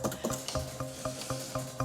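Béarnaise sauce being whisked hard in a bowl in a timed cooking contest, with fast, regular scraping and clicking strokes of about four per second, close and steady.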